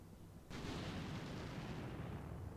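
Artillery shells striking the ground in the war game Combat Mission Shock Force 2, bursting in abruptly as a heavy, sustained rumble of overlapping detonations that keeps rolling at steady loudness without any voices.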